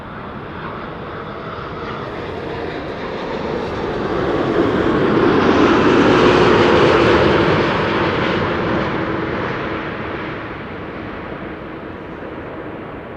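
KLM Boeing 787-9 Dreamliner jet arriving at Amsterdam Schiphol, a broad engine roar swelling to a loud peak mid-pass and then fading away, with no voices.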